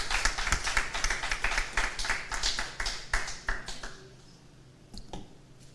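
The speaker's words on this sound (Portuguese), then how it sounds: "Você pode aplaudir a palavra de Deus," Church congregation applauding after a sermon passage, dense overlapping handclaps filling the room for about four seconds before thinning to a few scattered claps and fading.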